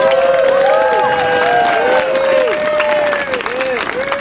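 An audience at a Transgender Day of Remembrance event applauds Tracy, with steady clapping mixed with whoops and high cheering voices, loud and sustained throughout.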